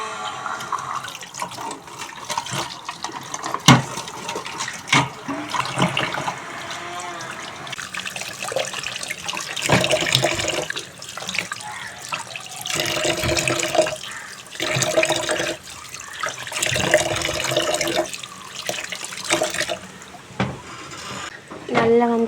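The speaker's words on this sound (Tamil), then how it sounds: "இந்த கோப்பையை நல்லா வாஷ் பண்ணி எடுத்துக்கணும்" A cup is washed under a running tap, with steady splashing water that swells and dips as it is handled, while a person talks over it.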